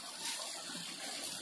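A small waterfall flowing over the Unakoti rock carvings gives a soft, steady rush of splashing water, faint and even throughout with no break.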